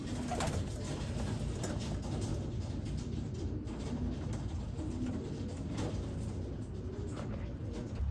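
Racing pigeons arriving at their loft coo softly against a constant outdoor wash of noise, with occasional fluttery bursts as birds move about nearby.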